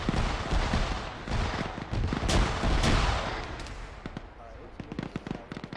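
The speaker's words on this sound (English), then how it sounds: "I hear the GMG firing. A lot." Rapid bursts of grenade machine gun fire in the military shooter ArmA 3, a dense run of sharp reports and distant explosions layered over a noisy battlefield mix, loud at first and thinning toward the end.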